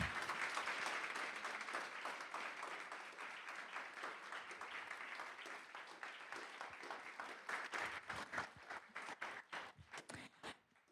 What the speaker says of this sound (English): I would like to ask you to join me in an amazing round of applause for you